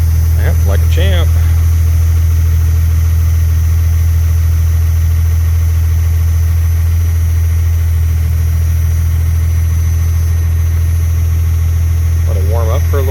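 A first-generation Cummins diesel engine idles steadily after a cold start with a loud, constant low rumble throughout, while brief voices are heard near the beginning and the end.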